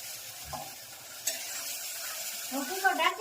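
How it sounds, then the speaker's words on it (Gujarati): Bottle gourd shaak cooks in a pan with a soft, steady sizzle, broken by a brief scrape early on and a few louder spoon-stirring scrapes near the end. "આજ મોનિકા ભાઈ શાક બનાવી રહી છે."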